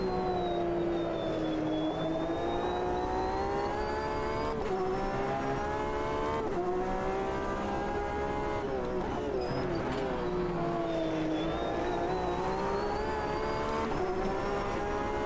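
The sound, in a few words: Corvette race cars' engines in a racing video game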